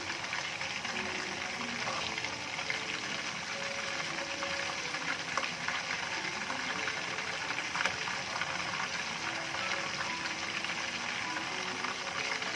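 Prawns frying in a pan give off a steady, even sizzle that holds at one level throughout, close and continuous, with no voices over it.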